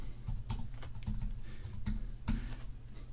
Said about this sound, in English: I'm going to click anywhere and I'll type a title